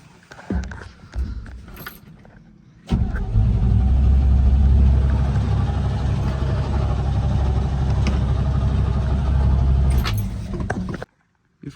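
A parked GMC 6500 sawmill yard truck engine cranks with a few rough sputters, then catches and roars into a loud, steady, low-pitched idle and rev that holds for about eight seconds before cutting off abruptly.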